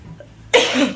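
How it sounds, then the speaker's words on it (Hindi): One abrupt, harsh cough bursts out at close range after a moment of near quiet in a home. "और घर में आते ही खांसी शुरू हो गई, पता नहीं क्यों।"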